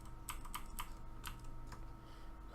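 Several crisp computer keyboard key presses, irregular taps clicking through a quiet room with a low steady hum beneath.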